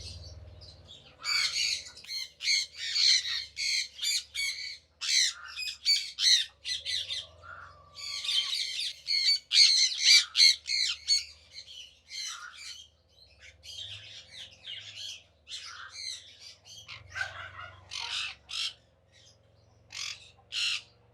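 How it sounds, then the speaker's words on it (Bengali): A colony of parrots squawks loudly in repeated harsh bursts, with many overlapping calls rising and falling over twenty seconds and a few brief quieter gaps. "এই যে টিয়া পাখির কলোনির সামনে আমি চলে আসছি"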